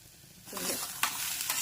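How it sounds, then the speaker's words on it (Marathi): Cluster beans, green beans and other vegetables sauté with spices in a pan: quiet at first, then a sizzle rises as they go in, with a few sharp stirring scrapes. "भाजी टाकून छान मसाले आणि भाजी परतून घ्या"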